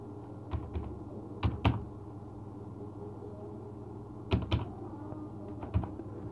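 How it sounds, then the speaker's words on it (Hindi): A short one-time passcode is typed on a computer keyboard in a few sparse bursts of close key clicks, with a low steady hum behind them and no talking. "तो उस OTP को आपको यहाँ पर टाइप करना है।"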